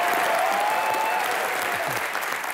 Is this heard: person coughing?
no